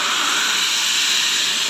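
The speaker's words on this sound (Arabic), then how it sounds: "هنا بقى هننزل بالميه" Water poured into a hot pan of sautéed lentils seasoned with salt, cumin and black pepper gives a loud, steady, broadband steam hiss that holds unbroken and close throughout.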